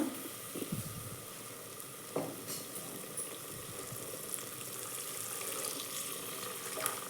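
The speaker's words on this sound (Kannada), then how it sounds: "ಸ್ವಲ್ಪ ನೀರು ಹಾಕ್ತೀನಿ" Water is poured into a cooking pan with a brief splash and gurgle, followed by faint sizzling and a soft steady hiss.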